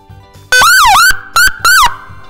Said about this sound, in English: what else is also used to let everyone know that there's an emergency is the siren